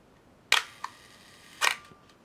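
A camera shutter set to a one-second exposure fires with a sharp mechanical clack as it opens, a faint tick, then a second clack about a second later as it closes. It is close and loud, with no voices.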